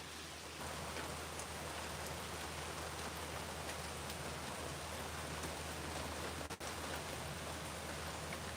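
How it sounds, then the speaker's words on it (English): Steady rain falling outdoors during a live stream, a dense continuous hiss of drops on surfaces, even and enveloping throughout with no talk. "tried to get out of the rain for just a second"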